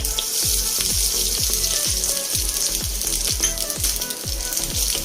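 Grated coconut fries in ghee in a pan, giving a steady loud sizzle with a rhythmic series of spatula scrapes and stirs, close up and with no voices.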